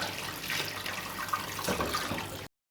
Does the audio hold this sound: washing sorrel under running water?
yes